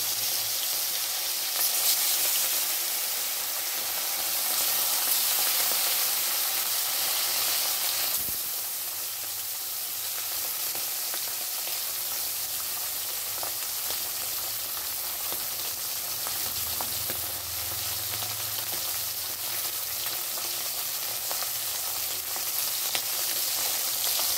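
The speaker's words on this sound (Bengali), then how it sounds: "তেলটা গরম হয়ে গেছে, এবার মাছটা দিয়ে দিচ্ছি" Bata fish frying in hot oil in a wok, a loud continuous hiss and crackle of sizzling that holds steady throughout, close up, with no voices.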